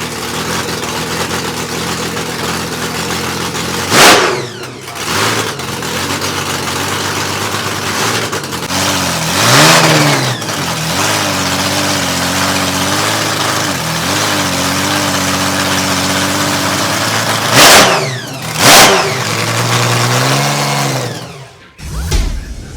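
A Holden six-cylinder drag racing car engine idles loudly and roughly up close, broken by several sharp revs that rise and fall, with a final blip before it drops away.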